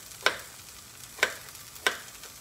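Green peppers sautéing briefly in a pan for an omelette: a soft, low sizzle with three sharp, evenly spaced scrapes of a utensil against the pan, close by and without talk.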